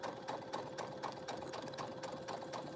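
A sewing machine stitches a fabric bag with a fast, even mechanical chatter of needle strokes. It runs steadily, close and fairly quiet, with no voices.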